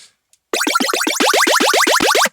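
A rapid series of synthesizer plucks repeats in a steady rhythm, each note sweeping downward, with layered detuned voices that gradually smear and drift apart.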